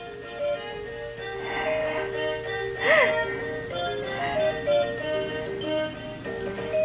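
Electronic tune from a child's toy ride-on car plays steadily across the clip, a looping melody with a short sliding tone partway through, while an adult and a toddler talk over it.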